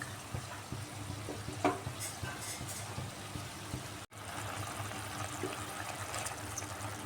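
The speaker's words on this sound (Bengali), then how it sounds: "এবার জুলটা ফুটতে থাক" Eggplant curry tempered with kalonji bubbling and simmering in a pan, a steady low hiss and soft bubbling with a few faint stirring clinks.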